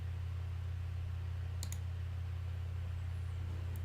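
A quick pair of mouse clicks in iCal calendar software's menu, sharp and faint, over a constant low electrical hum.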